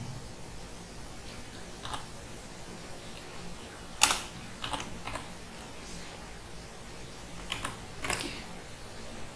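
Typing on a computer keyboard during Bangla text entry; quiet, close clicks of keys in short irregular bursts with a few louder taps, no talk.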